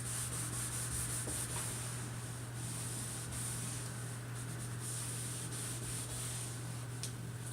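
Rubbing alcohol wiped along the edge of a kitchen sink to strip out old caulk, a steady soft rubbing and swishing that runs without pause over a constant low hum, close up and fairly quiet.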